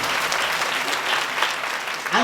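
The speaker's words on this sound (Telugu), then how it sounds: "చప్పట్లు కొట్టుడు ఒకసారి." A church congregation claps together in a steady, dense burst of applause that fills the space, with a voice briefly rising near the end.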